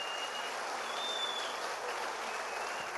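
A church congregation applauds during a sermon, giving a dense, sustained clapping that fills the room at an even level with no voices on top.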